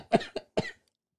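Three quick, sharp coughs burst out close to the mic, the first strongest, then stop into silence.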